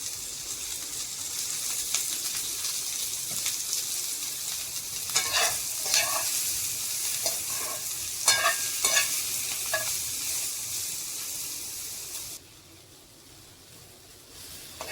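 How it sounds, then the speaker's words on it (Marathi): Onions fry in a little oil in a pan, giving a continuous sizzle with stirring clatter in the middle, fading quieter near the end, no talk. "थोडं तेल टाकून कांदे भाजून घेऊ."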